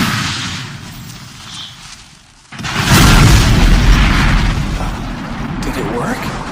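A magic fire spell in an anime battle bursts into a loud, roaring blast after a brief lull, rumbling on with a sustained crackling boom for several seconds, with voices heard before it.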